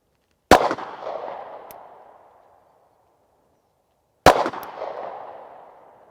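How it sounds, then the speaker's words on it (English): Two sharp, loud pistol shots from a Springfield Hellcat firing Black Hills 124 grain rounds, several seconds apart, each cracking close by and trailing off in an echoing decay. "Let's start out with 6 rounds of that 124 grain."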